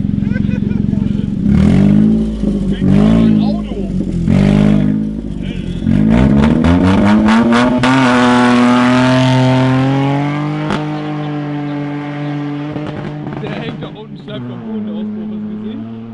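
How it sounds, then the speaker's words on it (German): A car revs hard and accelerates on a fast track, its engine note climbing in rising sweeps loud and close, with people talking over the start before the engine takes over and fades slightly. "Stefan will jetzt hier richtig fett hochheizen, aber richtig schnell"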